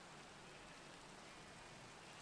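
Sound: rain in the video game Minecraft

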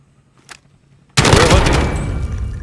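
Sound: gunfire in video game Call of Duty: Modern Warfare

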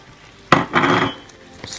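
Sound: stirring mustard powder, liquid smoke and salt into beans

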